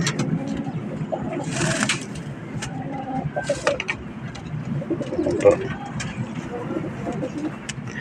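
Pet pigeons kept by a breeder cooing in repeated soft low calls, close by, with scattered chirps, rustling and faint voices in the background.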